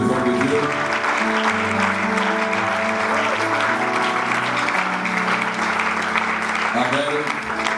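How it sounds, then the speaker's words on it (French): An audience at a church gathering claps steadily and loudly throughout, with sustained music tones running under the applause. "Est-ce qu'on peut acclamer pour les hommes de Dieu?"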